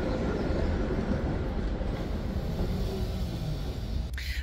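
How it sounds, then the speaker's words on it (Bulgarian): A tram approaches on a city street in February with a steady, loud rumbling roll and a faint clatter of wheels on the rails. It stays close and continuous throughout. "защото идва трамвай"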